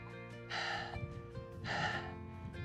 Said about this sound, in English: Really breathing hard.